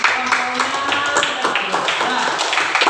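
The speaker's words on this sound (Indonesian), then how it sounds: "Tepuk tangan untuk" Applause from an audience in a school classroom, a steady stream of dense clapping running through the whole stretch, with a voice speaking over it.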